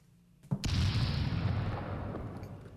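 A loud, close bomb explosion effect opens with a sharp crack and thump, followed by a heavy rumbling boom that decays slowly over about two seconds.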